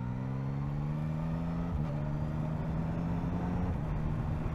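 A 2024 Yamaha MT-09 motorcycle engine drones steadily while riding and pulls through quick-shifter gear changes, two brief pitch drops marking the shifts, with steady wind rush and no talking.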